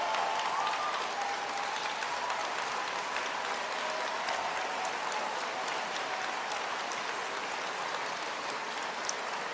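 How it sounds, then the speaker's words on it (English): Steady, even applause fills a room at a farewell tribute for Carolyn Bennett, a dense wash of many hands clapping without pause for nearly ten seconds, no voices standing out. "how about a massive round of applause for someone who gave her farewell speech in the House tonight"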